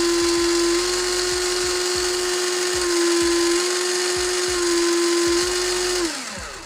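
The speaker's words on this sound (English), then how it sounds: "I'm going to hit this throttle rate right here while holding down the throttle to show you guys the difference in RPM" The electric motor of a WPL D42 RC Kei van, modelled on a Tianjin Dafa TJ110, whines at high pitch and shifts slightly in speed as the throttle is held at different rates, then spools down at the end, with faint rhythmic ticking underneath.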